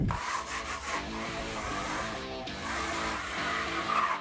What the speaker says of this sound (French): Un bon petit coup de couteau, là, j'ai un 22 cm de largeur